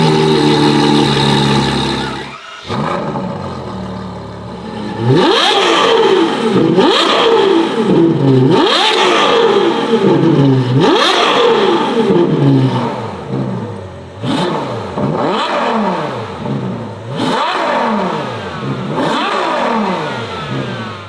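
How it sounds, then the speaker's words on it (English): A Ferrari 812 N-Largo S with a naturally aspirated V12 and Novitec exhaust revs hard again and again, each blip climbing quickly and dropping back, loud and close with no talking. "the 812 Enlargo S with the Novitec exhaust system"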